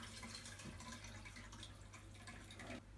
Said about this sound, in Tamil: தண்ணியை வந்து வடிகட்டிட்டு நம்ம ஒரு வாட்டி கழுவி அலசி எடுத்துக்கலாம்